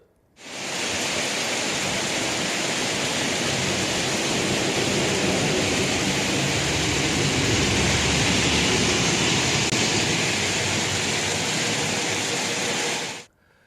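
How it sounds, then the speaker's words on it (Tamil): Heavy downpour with rainwater running over roads in hill-town streets, a steady loud hiss that starts abruptly, holds constant for about thirteen seconds and then cuts off. "குன்னூர், கோத்தகிரி, ஒரசோலை உள்ளிட்ட பகுதிகளில் கொட்டிய கனமழையால் சாலைகள் நிரம்பி மழைநீர் சென்றது"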